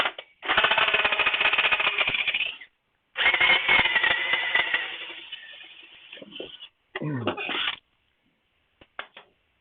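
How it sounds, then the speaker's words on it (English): Drilling through a boxwood box blank on a brand new wood lathe: harsh, loud whirring bursts of about two seconds each, separated by brief pauses, ending in a few shorter scraping spurts and isolated clicks. "Just about to drill through on my brand new lathe."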